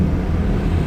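A Toyota engine, revving at 3,500 to 4,000 RPM, booms into the car cabin as a constant, loud, low drone with no speech over it.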